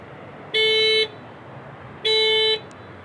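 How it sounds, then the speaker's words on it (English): A 2018 Hyundai Accent SEL's panic alarm honks the horn twice in evenly spaced half-second blasts, loud and close, with quiet background between them. "So it basically beeps the horn, flashes the lights."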